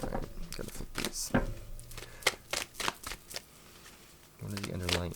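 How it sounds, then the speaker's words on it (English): Tarot cards being shuffled by hand in quick bursts of riffling and slapping, close and crisp, with a few soft pauses and a short stretch of talking near the end. "Sorry it's taking so long to shuffle."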